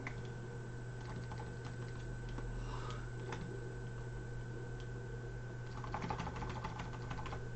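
Tarot cards resting on a computer keyboard press its keys, making faint scattered clicks and ticks over a constant low electrical hum, busier toward the end.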